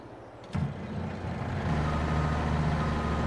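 Truck engine in Farming Simulator 22 rumbles steadily as it backs up, after a sharp clunk, with rhythmic reversing beeps starting partway and continuing alongside the low, close idle.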